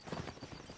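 Horses galloping in the Mount & Blade North & South mod line battle, a dense rapid drumming of hooves close by, rolling without pause for under a second.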